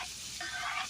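Chopped onions poured into hot oil with garam masala for polao, giving a brief, steady hiss of sizzling that is fairly faint and close.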